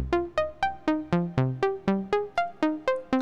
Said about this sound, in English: Without the delay, it sounds like this.